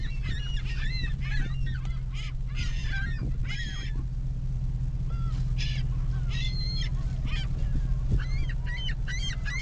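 Seagulls being fed bread call out repeatedly in short, harsh, honking bursts over a steady low hum, loud and close throughout.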